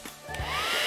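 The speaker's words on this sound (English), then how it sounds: "grab your secret ingredient, your hairdryer, and step away and see if you can blow your aerofoil" A hairdryer blows air at a paper aerofoil, its steady whooshing hum rising and swelling close by over under a second.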